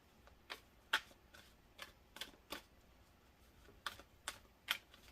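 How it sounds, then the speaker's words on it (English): Tarot cards shuffled by hand, a series of crisp, irregular flicking clicks and snaps spaced through the clip, fairly close and alone with no talk. "One more shuffle, please"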